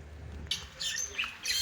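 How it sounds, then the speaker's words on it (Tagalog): Harsh bird squawks ring out in three or four short bursts against a low background rumble, loud and close. "Eh, maingay yung mga ibon."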